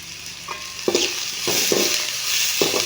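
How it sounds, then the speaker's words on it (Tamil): Green chilies sautéing in a pan for pongal sambar, a steady close sizzle broken by several scraping stirs of a spoon against the pan, with no voices. "பச்சை மிளகா நல்லா வதங்கட்டும்"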